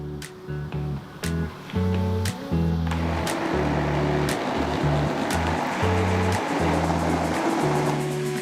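Loud pulsing whir of a mixer grinder grinding tomato dosa batter in repeated short bursts with brief gaps, close by, the grinding growing rougher and denser.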